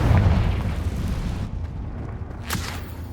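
The Confringo spell in Hogwarts Legacy goes off with a heavy explosive boom that rumbles and decays, followed by a brief sharp burst a moment later.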